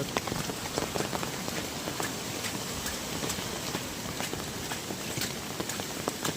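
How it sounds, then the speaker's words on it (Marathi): Heavy rain hammers down near a stream on a fishing trip, a thick steady roar of drops with frequent sharp close splats and patters, no voices. "पावसान जोरच केलाय ना जाम"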